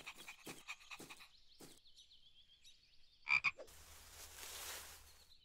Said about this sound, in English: You'll scare the frog away.